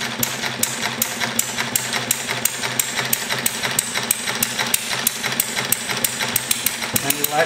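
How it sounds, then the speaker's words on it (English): An early Henry Ford engine runs with a rapid, evenly spaced mechanical knocking, close and steady, its beat quickening slightly toward the end. "If you see, I adjust the throttle, it'll speed up."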